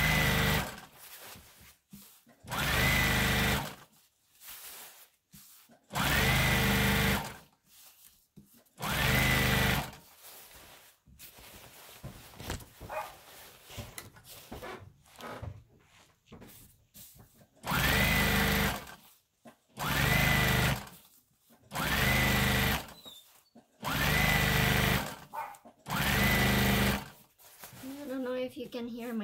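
A sewing machine stitches a horsehair braid hem onto a prom dress, running in about seven loud bursts of several seconds each. Quieter talk and handling noise fill the gaps between the runs.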